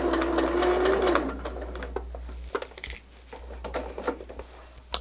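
A sewing machine stitches a diamond star quilt block, its motor whirring loudly for about a second before dropping to soft clicks and handling noises.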